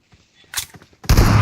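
Gunshots in a Wow Mode 2v2 match of a shooter video game, with a couple of faint pops and then a sudden loud blast at the end.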